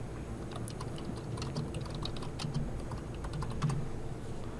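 Keys clatter on a computer keyboard as the sudo command is typed, a steady run of crisp close taps over a low background hum, with no talking.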